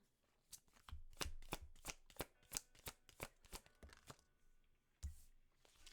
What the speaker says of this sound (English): I keep shuffling and two keep popping out